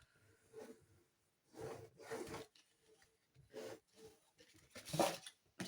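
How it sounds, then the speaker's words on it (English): A bone folder rubs and scores along the edges of paper for a grimoire cover, giving soft, faint scraping strokes in short repeated bursts with quiet gaps between them. "So I'm just scoring them edges"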